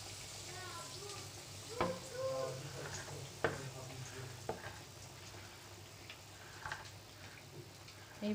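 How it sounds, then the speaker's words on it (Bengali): Potato chops (aloo chop) fry in hot oil with a steady, moderate sizzle that continues throughout, broken by a few sharp taps and clicks close by. "এইভাবেই সবগুলো চপ আমি ভেজে নেব।"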